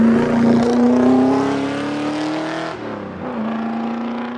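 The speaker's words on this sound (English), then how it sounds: "Now here comes the car." A rally car on the Targa West prologue stage roars past close by, its engine note loud and rising, then dropping in pitch as it passes and shifts, alone with no commentary.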